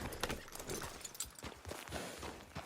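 In the video game Red Dead Redemption 2, a horse's hooves clip-clop in a quick, uneven rhythm, fairly faint beneath the game's background sound.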